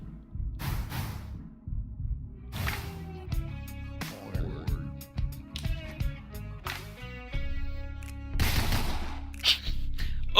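Pistol gunfire in the video game Deadbolt, with sharp, scattered shots, some in quick pairs, layered over game music and effects, fairly loud and close.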